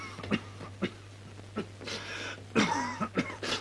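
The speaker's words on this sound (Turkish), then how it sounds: "Peki bu öksürük ne olan?" A man coughs repeatedly in a dry, hacking series of short bursts, close and fairly loud, with brief pauses between fits, in a 1988 Turkish film scene where the cough is blamed on smoking.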